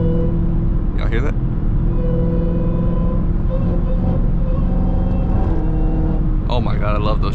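A Dodge Charger Hellcat drives in morning traffic, its loud steady engine rumble carrying a thin, sustained supercharger whine, with brief voice-like bursts near the start and end.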